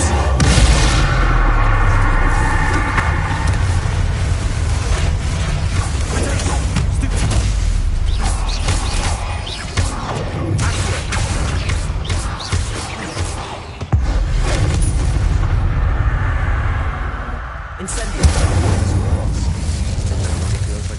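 Incendio fire spell cast in Hogwarts Legacy on PS5, with booming, bursting blasts and roaring flames in a dense, loud mix, a voice speaking in between.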